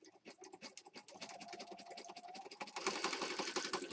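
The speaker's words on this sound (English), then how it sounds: "I have a regular sewing machine. I've got black thread in it, regular needle." A regular household sewing machine with black thread and a standard needle stitches along the outside edge of a card, giving a fast, continuous mechanical whirr that grows louder and denser toward the end.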